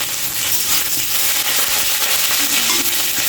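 Onion and dried chili frying in hot oil give a loud, steady, close-up sizzle and crackle with no break, joined by occasional faint clinks.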